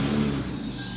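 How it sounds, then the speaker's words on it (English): A repaired Toyota sports car engine on its first cold start, a steady mid-pitched running drone with a slight rev swell early on, close and continuous with no talk. "let's hear this thing on its first cold start"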